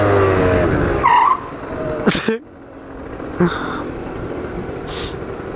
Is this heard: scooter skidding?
yes